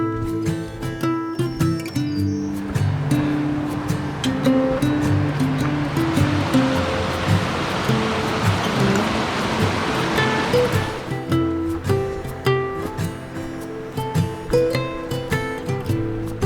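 Water rushes steadily at Marcy Dam in the Adirondacks, a loud, continuous broadband roar close by that stays even throughout, with no voices over it.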